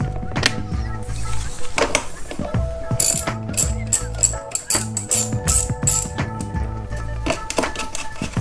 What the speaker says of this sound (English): now we're going to remove these with a 10mm socket wrench